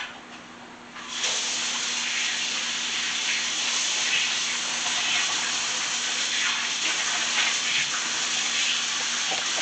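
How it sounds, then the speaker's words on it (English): Water runs from a kitchen tap for hand washing, a steady, bright gushing hiss that switches on after about a second and continues at an even level to the end. "Let me wash my hands real quick."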